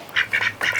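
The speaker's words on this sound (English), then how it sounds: "Quack, quack, quack." A duck quacks three times in quick succession in a backyard being landscaped, close and fairly loud, with no talking.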